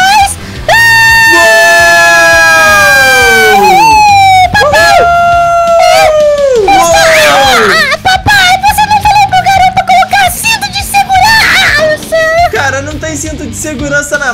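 A loud police siren wails and sweeps close up in the video game GTA 5, alongside horn blasts and chaotic game noise, with voices talking over it.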